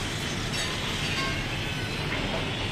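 A metro train runs on a nearby elevated line in Sanath Nagar, making a continuous broad rumble and rush of wheels at moderate distance that fills the whole stretch without any voices.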